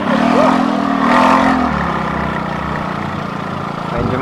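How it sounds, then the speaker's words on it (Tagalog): A noisy motorcycle engine runs steadily and fairly loud on a ride in Catanduanes, Philippines, its low drone continuing throughout with a slight rise in revs near the start. "medyo maingay ang ating motor."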